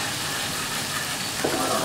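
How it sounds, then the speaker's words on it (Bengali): Spice paste for prawn malai curry sizzles in a pan, a steady close hiss of frying with soft stirring scrapes and no one talking over it. "এবার এটাকে ভালো করে একটুখানি ভাজতে হবে।"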